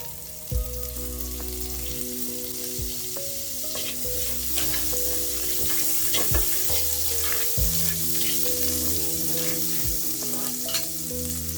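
Cooking oil and butter or margarine heat in a pot, giving a steady, close sizzle and crackle with a few sharper pops, under a faint tonal background.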